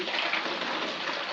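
Water pours steadily into a pitcher or jug, a continuous, fairly loud splashing rush with no breaks, heard alone.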